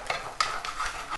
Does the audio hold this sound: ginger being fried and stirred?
yes